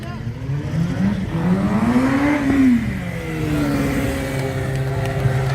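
A motorcycle engine revs up and down in rising and falling surges during a stunt show, loud and close, with a crowd murmuring underneath.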